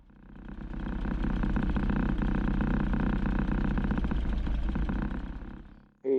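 Briggs racing kart engines run together on the grid at Charlotte Motor Speedway, a loud, steady buzzing drone of many small engines that swells in and fades out, with a brief louder burst at the end.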